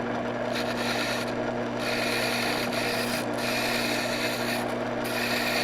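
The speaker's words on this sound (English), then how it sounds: "as the wheel spins, you'll be able to see through it clearly and see the cutting edge being sharpened" Worksharp WS3000 sharpener with its spinning wheel honing a carving tool, a steady loud motor hum with continuous abrasive rubbing and a few brief scraping pulses as the edge meets the wheel.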